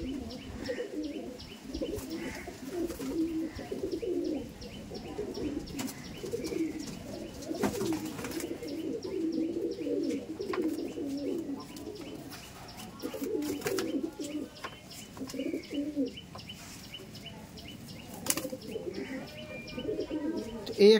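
Madrasi pigeons, a high-flying breed, coo steadily and close by in low, rolling, overlapping calls with a few faint chirps. The cooing runs almost without a break throughout.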